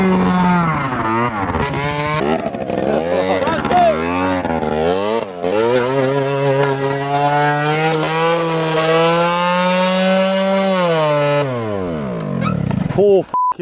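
A moped engine revving hard while the moped drifts, a loud buzzing whine that rises and falls in repeated swells before holding a sustained high rev and dropping off at the end, with no speech.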